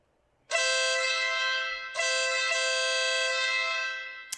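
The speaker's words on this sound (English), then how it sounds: "And that's the air horn." A loud, blaring dual-tone air horn fitted to an Acura NSX sounds in two long blasts with a brief break, its tone bright and brassy.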